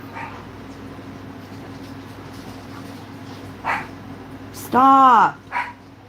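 A dog lets out one loud, close bark-yelp near the end, with a couple of fainter yips around it over low room noise, and a person shouts briefly.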